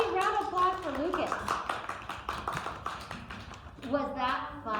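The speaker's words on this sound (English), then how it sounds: "Round of applause for Lucas." Children in a classroom applaud a classmate with quick, uneven claps, while young voices and an adult talk over the clapping.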